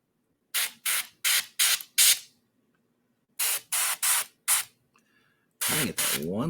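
An airbrush sprays paint in short hissing bursts: five quick puffs, a pause, then four more and a longer blast, with a voice briefly heard near the end.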